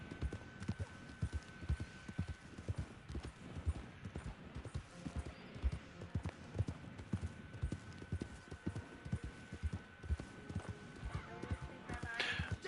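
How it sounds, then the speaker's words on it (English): A horse gallops in the video game Red Dead Online, its hooves pounding in a fast steady clip-clop rhythm throughout, close and continuous, ending with a brief neigh. "The only thing I am hearing is my horse."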